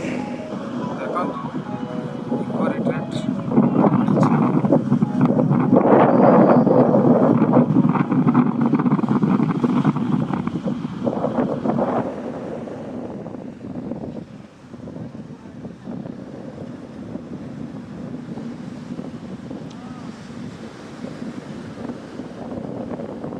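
Cool sea wind gusts across the microphone at Pentha sea beach, a loud, rough rumble that swells and eases, with surf faintly underneath and people talking nearby.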